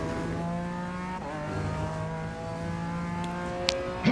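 A BMW M4 GT4 race car in the iRacing sim at Circuit Zolder drones steadily under load through a downshift into second gear, the engine note wavering as it pulls, with a short squeal near the end.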